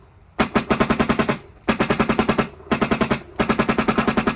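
A dust black HK Trex fitted with a VIS engine fires three rapid bursts of shots in quick succession, loud and close, separated by short pauses, with no talking.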